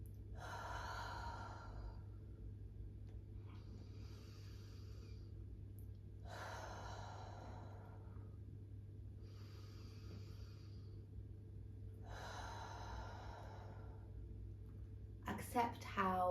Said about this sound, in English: Let's take some intentional deep breaths.